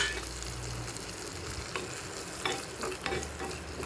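Semolina and cashews fry in hot ghee in a small tempering ladle, giving a close, steady sizzle with occasional stirring scrapes and soft crackles throughout.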